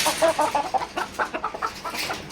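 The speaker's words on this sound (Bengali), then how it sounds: "আবার এদিকে মুরগি আছে কিছু ডিম পাড়া," Laying hens on a poultry farm cluck in a quick run of short, close, moderately loud calls, alone without talk.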